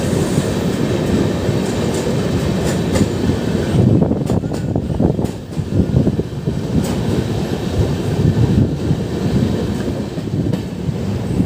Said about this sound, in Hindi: यात्रा प्रारंभ होने के बाद पहली बार हमारी ट्रेन किसी बड़े रेलवे स्टेशन को बिना रुके क्रॉस करने वाली है